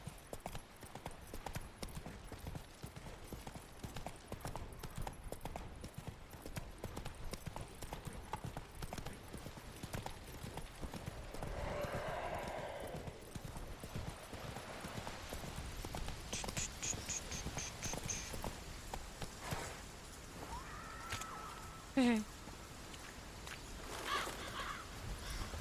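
Geralt's horse Roach from Witcher 3 gallops in a steady, close run of hoofbeats that carries on throughout, with a brief whinny-like cry near the end and game ambience behind.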